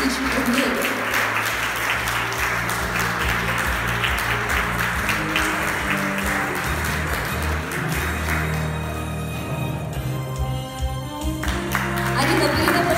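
An audience at a city sports grant award ceremony applauds steadily and fairly close for the whole stretch, with a voice talking over the clapping toward the end.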